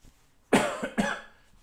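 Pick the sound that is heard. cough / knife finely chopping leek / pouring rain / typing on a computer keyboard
cough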